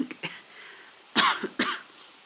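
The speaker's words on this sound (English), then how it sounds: "Still got a bit of a dry cough from this cold that I've had" Dry coughs from a man with a cold, several short, close, harsh bursts in quick succession with quiet gaps between them.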